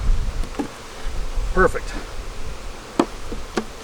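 Honey bees buzz around open hives while they are split after a honey harvest, with faint, low humming and brief close passes. Scattered knocks from hive work and a short spoken word come through.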